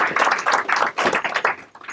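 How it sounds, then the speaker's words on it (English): A small group claps briefly in quick uneven bursts, close and fairly loud, fading after about two seconds. "So please give them a big round of applause."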